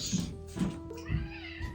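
A pet cat lets out a few soft, close meows and chirps at a low volume, heard alone without any talking.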